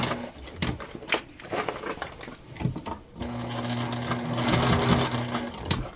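A sewing machine stitches a leopard print tote bag, running steadily and close, with a whirring mechanical hum that quickens and grows louder in the second half, no talking over it.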